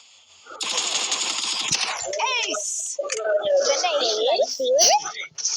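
A rapid burst of automatic gunfire rings out in a Free Fire mobile game, loud and close for about a second before excited talking takes over.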